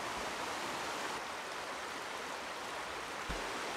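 A clear river flowing over rocks near a campsite, a steady close rushing wash of water without breaks.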